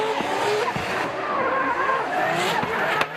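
Drift race car at Sportsland Sugo in Miyagi, engine revving and tires squealing in a long skid, loud and continuous, with sharp clicks and a brief burst near the end.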